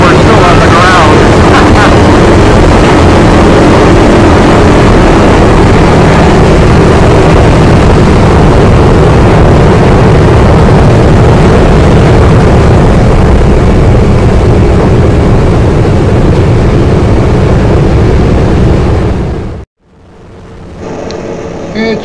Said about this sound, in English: 1200 horsepower engines are deafening for this clip here.